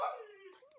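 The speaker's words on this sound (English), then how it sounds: "I hear you. That's my dog." A single short dog bark that trails into a whining, howl-like tone, heard close and alone.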